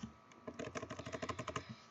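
Fast, even run of keystrokes on a computer keyboard while typing code for a Discord bot, about a dozen close crisp clicks in a steady rhythm with no talking.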